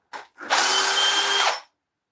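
A power drill reverses screws out of a lathe faceplate at a woodturning bench, with a short blip and then about one second of loud, close, steady whirring that stops abruptly, followed by no talking.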